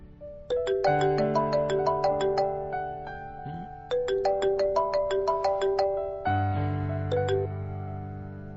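A melodic phone ringtone plays a repeating chime pattern, clear and fairly close, with no talking.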